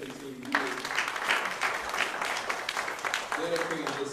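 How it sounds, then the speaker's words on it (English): Audience applause honoring Mr. Griffin for seventeen years of service on the Charlotte-Mecklenburg Board of Education, a steady wash of clapping lasting several seconds, with voices and cheers mixed in near the start and end. "Please give him a round of applause for serving 17 years"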